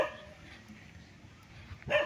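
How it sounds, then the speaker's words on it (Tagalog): An agitated dog barks at a rural property by a fence, a short sharp bark at the start and another at the end, fairly close, with quiet outdoor ambience between. "Oops, galit ang aso ah."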